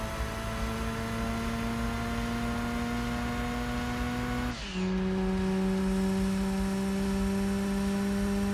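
A Mazda RX-7 in the video game Gran Turismo 2 drones at high revs with a steady, buzzy engine tone, then drops in pitch on a sharp upshift and resumes climbing, loud and close with no talking.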